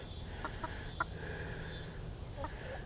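A Polish chicken on a homestead gives a few short, soft clucks spread across a quiet outdoor background.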